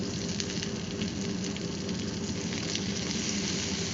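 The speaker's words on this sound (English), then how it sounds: "Now we're going to add our butter" Butter sizzles steadily in a heated pan for a creamy garlic sauce with pork chops, a dense, continuous frying hiss that stays loud and close throughout with no talk.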